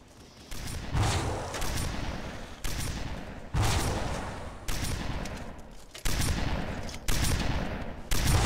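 Repeated Halo shotgun blasts, loud and close, each sharp boom landing roughly once a second with a decaying rumble tail, about seven shots in steady succession.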